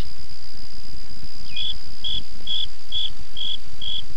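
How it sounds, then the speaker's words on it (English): A cricket chirping in evenly spaced, bright pulses about every half second, loud and close over a steady high whine and low hum, with no talking. "Another member of the Orthoptera is the lively cricket, whose friendly chirping so annoys the unsympathetic housewife."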